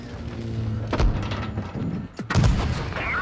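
Tank cannons fire in World of Tanks Blitz, with two loud booming shots about a second apart followed by rumbling impact thuds over a constant engine drone.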